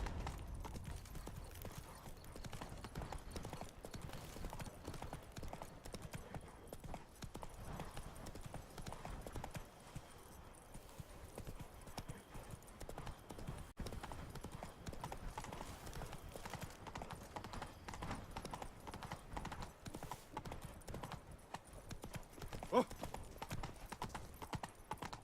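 Roach, a horse in The Witcher 3: Wild Hunt, trots steadily with a continuous clip-clop of hooves throughout, moderately close, under faint ambient game sound and no talk.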